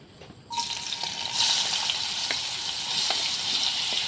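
Chopped pineapple dropped into hot ghee for a pineapple payasam: silence, then a sudden loud sizzle that settles into a steady crackling fry, with a few light stirring clicks and no talking.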